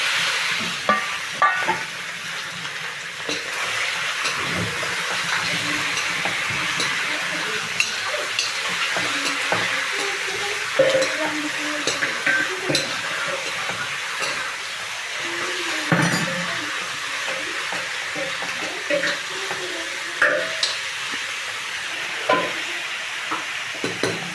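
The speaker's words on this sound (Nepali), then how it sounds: "अब मैले यसमा मासु राखिदिन्छु। यो धेरै डढ्छ फेरि, प्याज धेरै भुट्यो भने नि।" Chicken meat sizzles steadily in a pan with onions for chicken curry, with a spoon scraping and stirring at irregular intervals and occasional clinks against the pot, no talk.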